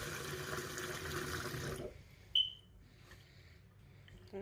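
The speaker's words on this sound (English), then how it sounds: "So we're going to add some cold water to the brown rice" Cold water pours into a pot of brown rice, a close, steady splashing stream that cuts off abruptly partway through, followed by a quiet room with a brief high clink and a faint knock.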